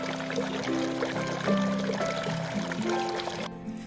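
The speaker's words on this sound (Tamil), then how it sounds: "தண்ணி ஊத்துச்சு." Water pours steadily in a cartoon story as a little sparrow fills a cloud, a continuous splashing stream over a bed of background music.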